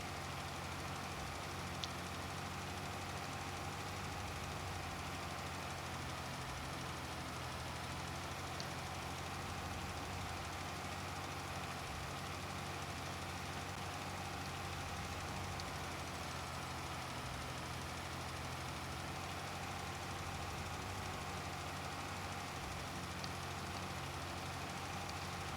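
A tractor engine in the Farming Simulator 25 video game hums at a steady idle-like drone throughout, faint and continuous with low rumble, with no talk over it.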